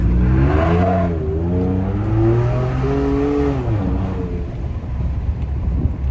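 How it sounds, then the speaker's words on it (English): A tuned Ford F150 EcoBoost pickup revs up close, the engine climbing and falling in a couple of smooth pulls before settling, with small exhaust crackles toward the end. "my exhaust be popping, bro"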